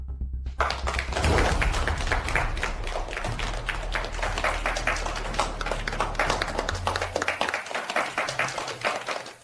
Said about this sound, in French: accueillons par nos applaudissements les plus chaleureux notre directeur Wang Changgong